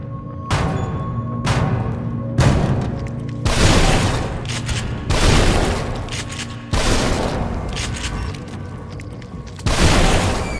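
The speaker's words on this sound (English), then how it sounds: "He's banging on the door." An invisible enemy pounds heavily on a door in the horror game The Evil Within, deep booming thuds landing in bursts at irregular intervals, loud and close with a rumbling tail after each impact.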